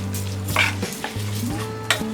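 Green moong dal mixture fries on a low flame for a khichdi, a soft sizzle with a few brief scraping stirs in the pan and a steady low hum underneath.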